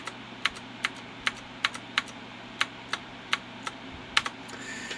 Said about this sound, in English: Now watch what happens when I press the caps lock on my USB keyboard.